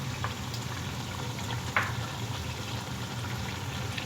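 Chicken fries in a pan for a chicken and potato curry, its moisture cooked off, giving a steady soft sizzle and bubbling hiss with a faint clink partway through and no talking.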